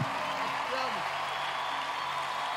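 Audience applauding at a Christian worship concert, a dense continuous wash of clapping with a voice speaking over it.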